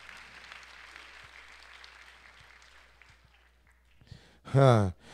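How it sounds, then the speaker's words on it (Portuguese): Church congregation applause during a Portuguese-language sermon, a soft, diffuse clatter of many hands that gradually fades to near silence before a single loud voice rings out at the end. "Dê outra salva de palmas para o seu Jesus aí."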